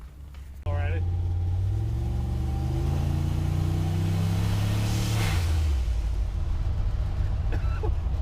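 A turbocharged 4.8 LS V8 in a C10 pickup roars steadily on a dyno, engine pitch climbing through a long sustained pull before dropping off, loud and close throughout.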